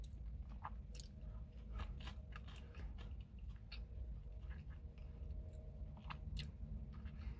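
Close, quiet chewing of Taco Bell Loaded Truff Nacho Fries, with soft repeated crunches and wet mouth sounds in an irregular rhythm and no talking.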